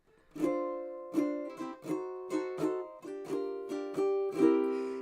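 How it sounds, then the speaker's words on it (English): Ukulele strumming a diminished jazz vamp in a live kanikapila jam, a steady run of crisp plucked chords that change every half second or so, fairly soft and close, with no talking. "It's often called a diminished jazz vamp"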